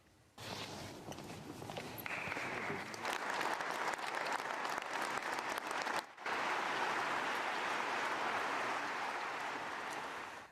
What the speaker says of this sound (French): applaudi par l'Assemblée, des catholiques qui étaient présents dans la salle